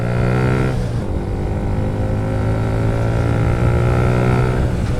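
Car engine during engine braking and a downshift with rev matching: steady droning engine note whose pitch drops, then a quick blip rises and settles, loud and close with no talk.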